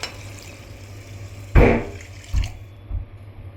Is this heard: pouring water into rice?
yes